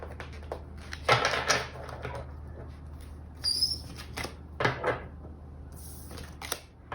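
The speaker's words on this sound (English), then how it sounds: "My shuffling is still a bit wonky because I used to always shuffle like this." Crisp papery riffling and soft clicking bursts of tarot cards being shuffled, close and moderately loud, in several short rounds with pauses between.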